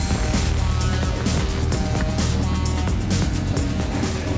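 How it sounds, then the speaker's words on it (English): Rumble of a Chevrolet Chevelle V8 engine at a garage, a steady, loud low-end drone running continuously throughout with broadband roar above. "You hear that rumble? Chevelle time."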